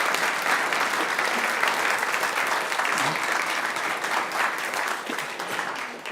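A church congregation claps together in a dense, sustained round of applause that fills the room and fades slightly toward the end, with a few voices faintly under it.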